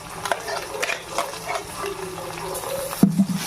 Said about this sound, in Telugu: అది బాగా నూనెలో మగ్గాలండి